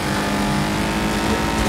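A loud car engine roars steadily in the demolition racing game Wreckfest, a dense sustained drone with no break across the short stretch.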